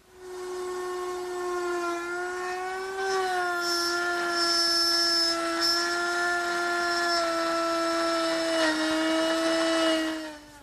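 A router cuts a mortise in wood, its motor holding a loud, sustained whine close by with a strong steady tone that shifts slightly in pitch as the bit works.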